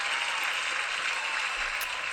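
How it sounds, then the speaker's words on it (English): Applause for drag performer Miss Sunny Delight on a talk show, a steady broadband wash of clapping held at an even level for a couple of seconds with no voices over it. "We're gonna clap for her."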